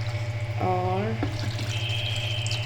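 Water poured little by little from a container into a pot of leftover curry (salan), a thin steady trickle heard after a brief spoken word over a constant low stove hum.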